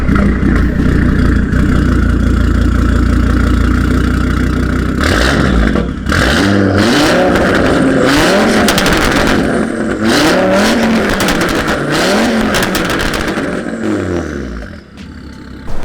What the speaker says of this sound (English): I have a Catless downpipe back there, and I have an AW SwitchPath exhaust